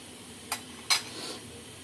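A spoon stirring tea, giving two quick metallic clinks followed by a softer scrape, close and clear against a quiet background.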